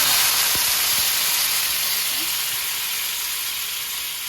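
Steady, loud sizzling and hissing as tomatoes and their juice are poured into a hot pan, a few soft clinks at the start, the frying fading slightly toward the end.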